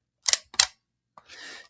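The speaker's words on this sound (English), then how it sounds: "This is the shutter," Two crisp mechanical clicks of a fully mechanical, battery-free film camera shutter firing in quick succession, followed after a pause by a faint tick and a short soft whirring rasp, close and alone.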